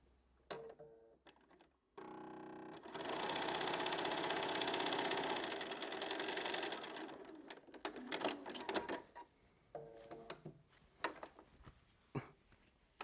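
A sewing machine runs a quarter-inch seam joining white fabric to a quilt block, one sustained loud burst of stitching after a few short clicks, then scattered handling noises and brief machine runs.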